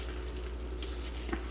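Thick country gravy bubbling in a cast iron skillet on an electric stove, a steady low simmering sizzle with soft pops and spatters throughout, close and fairly quiet.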